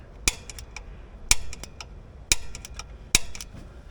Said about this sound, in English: Okay, just a couple of punches should do it.